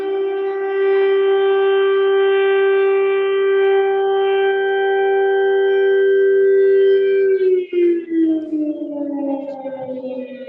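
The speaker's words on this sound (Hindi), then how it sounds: "ये एयर रेड सायरन्स यहाँ अभी बहुत नॉर्मल हो गए हैं।" A civil defense air raid siren wails over Kyiv in wartime, a loud sustained tone holding steady for several seconds before sliding downward as it winds off, no talking.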